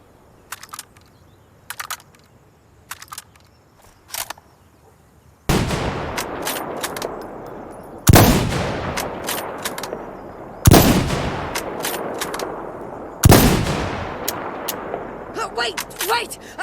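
Weapons fire in Insurgency: Sandstorm: faint, distant single shots at first, then several loud, close, booming reports with long echoing tails and a few rapid follow-up shots, with voices calling out in between.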